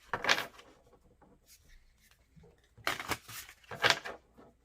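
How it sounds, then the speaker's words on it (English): Cards are shuffled in a few short bursts of crisp riffling, separated by quiet pauses, close and fairly soft. "let's just do a quick shuffling."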